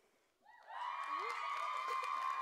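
Applause and cheering rise from an audience at a school choral concert, starting quietly and swelling into sustained clapping with whoops, heard from some distance.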